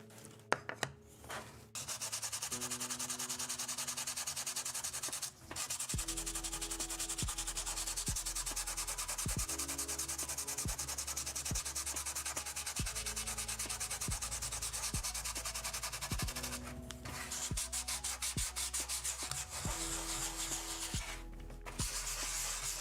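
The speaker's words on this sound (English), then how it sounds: "a deeper grade or a higher grade of sandpaper would get the job done" Carved wood is rubbed with sandpaper in a close, continuous rasping scrub, steady and fairly loud for most of the clip, with a few short pauses and faint musical tones in the background.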